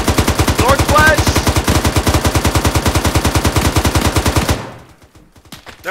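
Sustained automatic gunfire pours onto a truck in the Arma 3 military game, a rapid, loud, evenly spaced burst lasting several seconds before cutting off, with a faint voice briefly audible beneath it.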